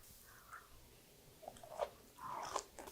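Crisp bites and chewing of steamed broccoli dipped in an almond and yuzu sauce, heard close and quiet as a few soft crunches followed by chewing, with no talking.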